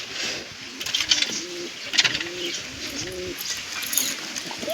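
Several pigeons coo in soft repeated bursts close by, their low rolling calls returning every second or so over a faint outdoor background, with no talking.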